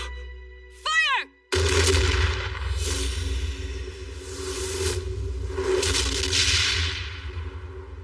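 Anime crossbow volley launching crest bullets: a short rising whistle, then a sudden loud roaring barrage of heavy thuds and rumbling whooshes that stays dense and sustained to the end.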